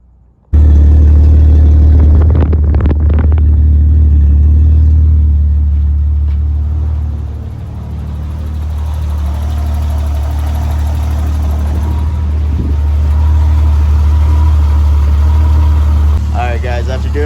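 A BMW E30 engine turns over and catches, then settles into a steady, loud, low rumbling idle with a few sharp clanks early on.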